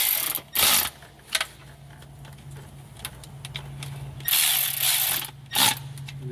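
A hand ratchet snugs up transmission pan bolts on a Ford SuperDuty 5R110W, with several loud bursts of rapid ratcheting clicks separated by quieter pauses, close to the microphone.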